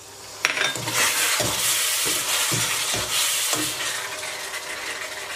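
Steamed-fish soy sauce hitting a hot wok of squid tentacles with chili, a loud steady sizzle with repeated scraping stirs of a spatula against the metal, close and continuous.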